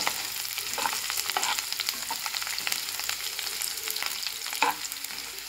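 Ginger, green chilli and garlic frying in a pan, a close, steady sizzle with frequent scraping and tapping of a spoon as it is stirred, no talking.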